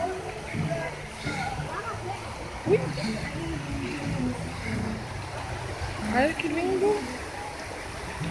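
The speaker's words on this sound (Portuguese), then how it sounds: "Agora olha essa linha da cachoeira." A stream and waterfall flow in Glen Park in Provo, Utah, making a steady rushing wash of water, with someone speaking quietly over it and brief splashy bursts.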